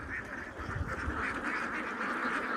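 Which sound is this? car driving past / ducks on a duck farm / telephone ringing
ducks on a duck farm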